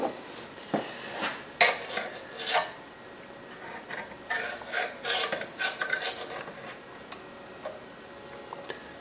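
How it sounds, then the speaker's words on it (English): A magnetic screwdriver works a screw on a heat sealer during maintenance, giving a series of close, irregular metallic scrapes, taps and clicks that come in short bursts with quiet gaps. "Use the magnetic screwdriver."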